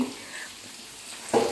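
Fish fries in hot oil with turmeric seasoning, giving a soft, steady close sizzle with a brief louder spurt near the end, and no talk.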